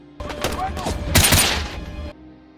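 A fierce film shootout near a church brings a rapid burst of gunfire, heaviest midway, with booming shots and clattering echoes. A voice narrates over the action.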